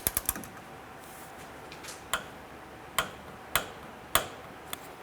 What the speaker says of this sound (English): we're going to torque down our radiator fan switch to 17 foot-pounds